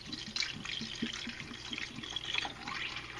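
Distilled vinegar poured into a dishwasher, a faint, close trickle of liquid with small splashes and drips continuing steadily throughout.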